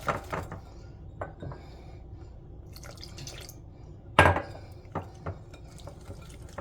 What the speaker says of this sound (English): We're going to slowly add our milk.